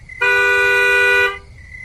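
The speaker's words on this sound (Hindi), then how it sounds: "तभी एक तीखी बस की हॉर्न ने उसकी सोच को काट दिया।" A sharp, loud horn blast from an old blue government bus, one steady sustained honk lasting about a second with no voices around it.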